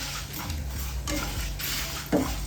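Sambar powder spices dry-roasted in a pan, stirred with soft scraping and light metallic clinks of a spoon on the pan, one sharper knock near the end.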